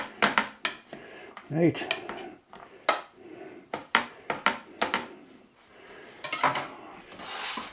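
Garlic cloves crushed for a beef short rib dish, sharp irregular knocks and clatters against a hard surface, close and loud in bursts with short gaps, and a brief spoken word near the start.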